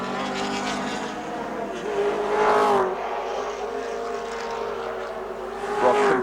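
A 1984 Group C touring race car driven by Brock at Symmons Plains, its engine note droning steadily and rising in pitch as it passes, with a louder swell near the end.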